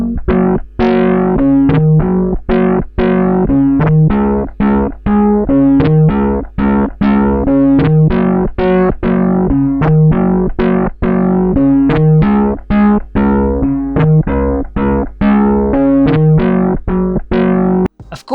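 A homemade laser-triggered musical instrument plays a run of loud, heavily distorted notes, each struck sharply and sustained with a hard-rock buzz, sometimes stacked into harmonious chords, with no talking.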